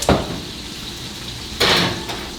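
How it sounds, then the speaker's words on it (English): Trays of stuffed acorn squash are slid into a home oven. A sharp metallic clatter opens, a quieter stretch follows, then a second scraping clank of the tray or rack, heard close with no talk. "we're gonna slide these in the oven"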